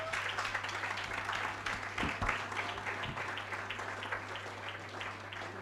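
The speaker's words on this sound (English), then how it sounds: "a round of applause, please" An audience at a neurosurgery symposium applauds with steady, moderately distant clapping from many hands, sustained throughout with a low electrical hum underneath and a few louder thumps.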